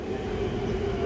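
A train rumbles steadily toward a platform, a low continuous rolling drone with a faint tonal whine, moderately quiet and without voices in this short moment.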